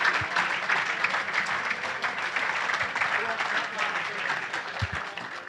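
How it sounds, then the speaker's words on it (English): Audience applause fills a hall during a question-and-answer evening welcoming back football manager Nigel Clough, steady dense clapping throughout with a few low thumps. "And keep the applause going, ladies and gentlemen, as we welcome back the manager, Nigel Clough."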